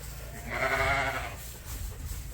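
A single sheep bleats nearby on a farm, one wavering call lasting about a second over low background rumble.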